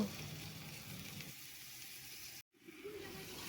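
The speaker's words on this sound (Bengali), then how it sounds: "চালগুলো ভেজে নেব" Rice frying in hot ghee in a pot for vegetable polao, a steady close sizzle that briefly cuts out before resuming.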